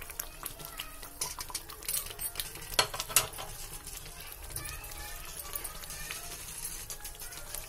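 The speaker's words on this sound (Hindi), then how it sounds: "अब हम इसमें ये पनीर डालेंगे।" Paneer and peas being stirred in a pan, with continuous scraping and clatter of a spoon against metal over a soft sizzle, punctuated by a few sharper knocks; a voice speaks intermittently underneath.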